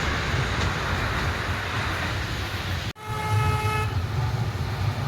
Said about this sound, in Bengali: এই দেখো তো টয় ট্রেনটা আসছে একদম সামনে দিয়ে